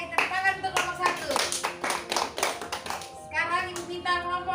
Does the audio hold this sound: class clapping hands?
yes